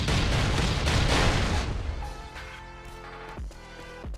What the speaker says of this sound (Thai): ือบโดนระเบิดอีกแล้ว